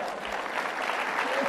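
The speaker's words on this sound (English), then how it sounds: "Polite applause." Polite applause from an audience, a steady wash of clapping hands that holds evenly for a moment with no voices over it.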